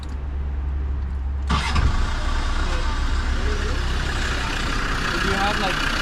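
A stalled car, fixed by moving cables to the starter, is started on a road trip in Alaska: a sudden loud burst as the engine catches, then steady close running and idling, with voices nearby.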